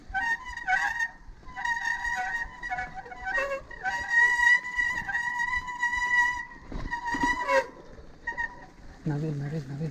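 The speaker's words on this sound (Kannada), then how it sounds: "ನವಿಲು ನವಿಲು ನವಿಲು ನವಿಲು" Peacocks near Turahalli Forest in Bengaluru give loud, repeated honking calls in short harmonic bursts, several in a row, close by, with people talking around them.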